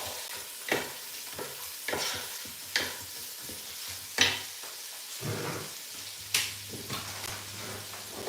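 Onions fry in a pan for Nigerian meal prep while a utensil stirs them: a steady sizzle with repeated scraping strokes at a regular rhythm, close and fairly quiet, with no voices.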